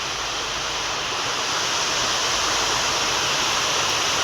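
Heavy water pouring down in a continuous, loud, dense roar, close and steady throughout with no voices over it.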